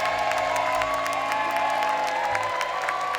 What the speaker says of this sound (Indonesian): tepuk tangan dulu buat keempat panelis